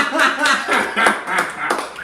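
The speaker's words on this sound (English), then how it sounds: "I love a forced applause" Brief, scattered, half-hearted applause from a small studio audience on a sports talk show, a few seconds of uneven claps mixed with light chuckles.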